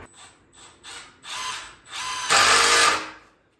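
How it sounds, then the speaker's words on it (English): A power driver sends screws into wood in a workshop, whirring in short bursts that grow longer and louder, ending with one sustained high-pitched drive before stopping. "Let's get these screwed in on either side"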